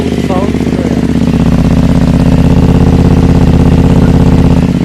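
A new BMW GS motorcycle engine idles steadily after a cold start, a loud, close, continuous rumble with a fast even pulse throughout, briefly overlaid by a voice near the start.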